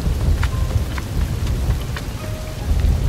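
Steady rain from the stealth game Shadow Tactics: Blades of the Shogun, a continuous dense patter with faint low rumbles of thunder beneath it, fairly loud and constant throughout with no voices.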